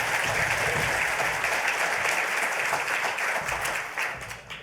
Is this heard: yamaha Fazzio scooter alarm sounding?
no